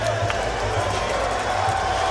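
Home crowd at a boxing match cheering and roaring steadily after a fight, a dense continuous wash of voices at an even level with no clear breaks.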